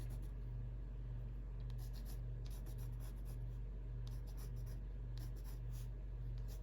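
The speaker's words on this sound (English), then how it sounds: "I'm just going to add some of the leaf veining to these with my leaf green pencil." A leaf green coloured pencil scratches leaf veins onto paper for a watercolor hydrangea painting, short sketchy bursts of quiet, close scratching in uneven clusters over a low steady hum, with no voices.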